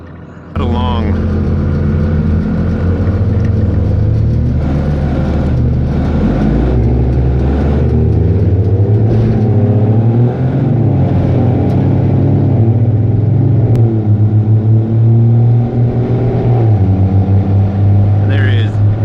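A truck fitted with an Allison transmission accelerating at speed, above 80 miles an hour, gives a loud, steady engine and road drone with gear-like pitch rises, while a voice talks over it throughout.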